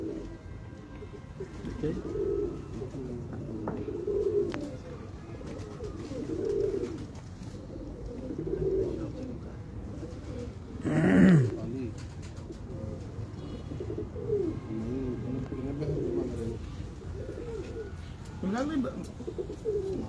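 A pigeon coos in repeated low, rolling phrases at a steady rhythm, fairly close, while someone talks over it and one louder burst stands out midway.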